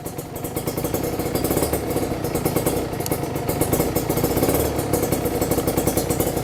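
A 2010 Kawasaki Ninja RR motorcycle engine idles steadily up close, a rapid, even chugging with mechanical clatter throughout.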